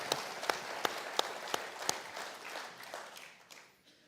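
Applause from the audience at a U.S. Naval Institute annual meeting panel: dense clapping with sharp peaks that gradually thins and fades toward the end.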